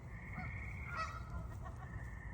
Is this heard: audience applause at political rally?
no